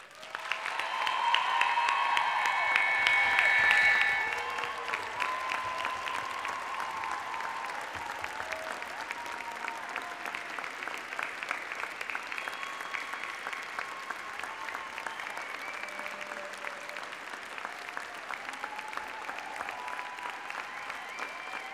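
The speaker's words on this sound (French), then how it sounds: "c'est le temps d'applaudir chaleureusement les nouveaux docteurs." Sustained applause from a large audience at a university graduation ceremony honouring new doctoral graduates, a steady dense wash of clapping that swells loudly at first then holds at a moderate level, with a voice faintly heard early on.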